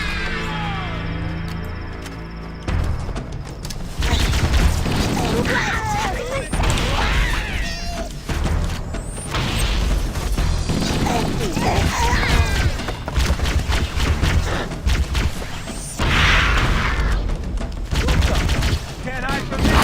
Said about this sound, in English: full auto on the assault rifle sounds funky